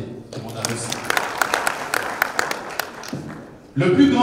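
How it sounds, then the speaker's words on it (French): An audience at a French-language school quiz competition applauds after an answer, a scattered round of claps with quieter talk before it and a voice taking over at the end. "On peut applaudir. Tout le monde a réussi."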